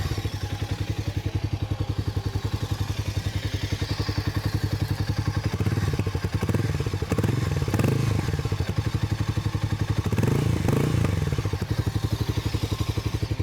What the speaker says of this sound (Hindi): किसी मोटरसाइकिल की कहानी और ख़ासकर हार्ली डेविडसन की कहानी तो शुरू ऑब्वियसली एग्जॉस्ट नोट से होनी चाहिए।